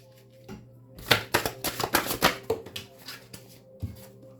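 Tarot cards are shuffled in a quick run of crisp riffling slaps and flutters, close and fairly loud, with a faint steady hum beneath and one last soft tap near the end.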